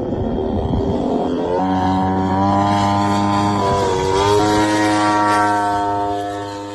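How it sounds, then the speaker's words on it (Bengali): KX2 military drone built under the Bangladesh Air Force, powered by a light Chinese 80–150cc gasoline engine, flying with a loud, steady buzzing engine drone that rises in pitch after a moment and holds throughout, no talk. "এখানে মূলত চাইনিজ 80 থেকে 150 সিসির লাইট গ্যাসোলিন ইঞ্জিন ব্যবহার করা হয়েছে।"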